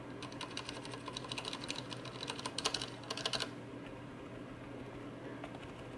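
Rapid keystrokes clatter on a Trust YMO wireless computer keyboard for a few seconds, then stop, leaving only a quiet, steady background hum.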